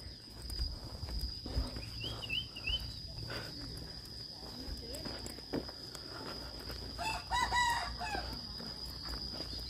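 Chickens in a small hill-tribe village with a tiny coop, a rooster crowing twice at a distance amid soft clucks, footsteps and faint outdoor ambience, with a steady high whine running behind.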